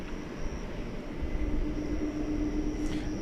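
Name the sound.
airplane departing from DFW Airport at night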